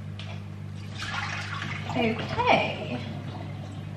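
Tap water running over raspberries being washed in a kitchen, a steady close splashing stream that swells briefly mid-clip, with a short spoken word.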